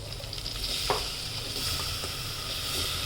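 Tomatoes fry in melted butter, giving a steady close sizzle with occasional stirring scrapes and a faint clink of a utensil, continuous and without speech.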